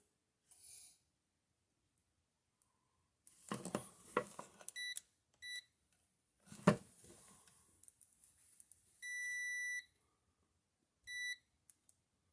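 An Elecall EMAX3 digital multimeter set to continuity mode gives several short, high electronic beeps, some brief and one held for about a second. Between them come soft handling clicks and probe taps in a quiet room.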